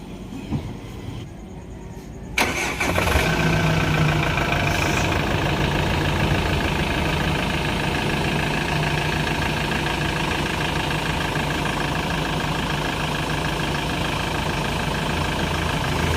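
A Hyundai Starex van with a leaking air-conditioning evaporator cranks and catches after a couple of seconds of quiet, then settles into a loud, steady, close engine run.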